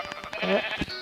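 A Minecraft sheep bleats once in a drawn-out, wavering tone, fairly quiet and heard on its own without talk.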